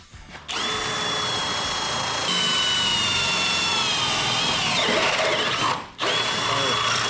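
A Harbor Freight power drill whines at high speed drilling a custom Jeep hoop, its pitch sagging under load as it bites in, briefly stops, then spins up again nearby.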